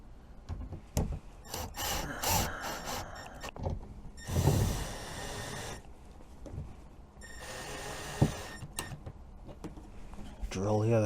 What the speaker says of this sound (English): then we'll use the impact gun to put the screws in